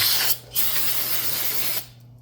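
An aerosol can of brake cleaner sprays onto brake parts of a 2018-2021 Chevrolet Equinox in short, close hissing bursts, a quick spritz followed by a longer continuous spray.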